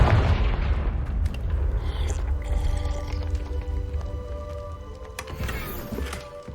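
A Confringo spell explosion in the Hogwarts Legacy video game booms loudly at the start, its roar decaying over several seconds into rumbling ambience and tonal hum, with a few faint later pops.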